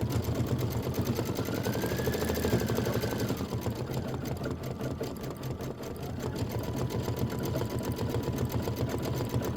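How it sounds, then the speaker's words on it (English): A home sewing machine stitches steadily for a full stretch while making a tabletop display, its rapid mechanical chatter continuous and close, with a brief whine near the start and no talk. "Just a minute of stitching."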